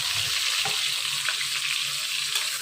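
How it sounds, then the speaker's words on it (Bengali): Diced potatoes fry in hot oil for a Bengali vegetarian potato-paneer dal dish, a steady close sizzle with a few soft stirring scrapes and no voices. "এই আলুটাকে একটু ওই হালকা লাল লালভাবে ভেজে নেব।"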